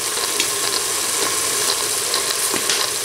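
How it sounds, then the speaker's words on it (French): Spinach with cumin and sweet paprika cooking in a pan over medium heat gives off a steady, close sizzle, with faint clicks and scrapes scattered through it. "Et je laisse mes épinards réduire en fait et cuire à feu moyen jusqu'à réduction complète de la sauce."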